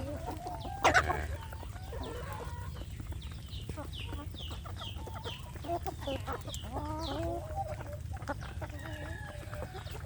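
Free-range village chickens cluck steadily at close range, with short repeated calls over a low background hum; one brief louder burst stands out near the start and no one speaks.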